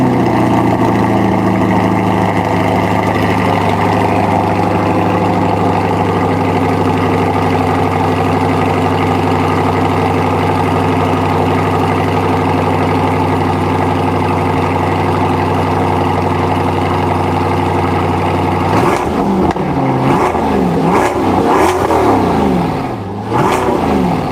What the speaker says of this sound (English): this is the AWE Touring Edition exhaust on the C8